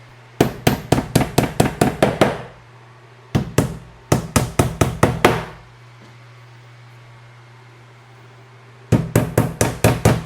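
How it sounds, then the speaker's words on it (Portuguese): A hammer drives nails into a wooden drawer bottom, rapid bursts of sharp knocks in several rhythmic runs separated by short pauses, close and loud with no talk. "E com os pregos vou fazer a fixação aqui."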